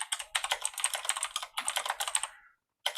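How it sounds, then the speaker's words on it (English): Fast, clattering keystrokes on a computer keyboard come in dense bursts, close and crisp, with a brief pause before a final few taps. "Someone's typing."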